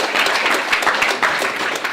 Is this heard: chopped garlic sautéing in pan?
no